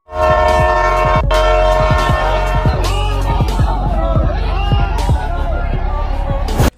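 A passenger train pulls into a station in Kerala, India, its loud horn blaring at first over a deep rumble, then clattering wheels and a busy platform din with voices nearby.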